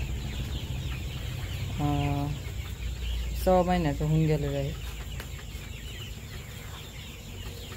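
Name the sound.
chickens clucking at a poultry farm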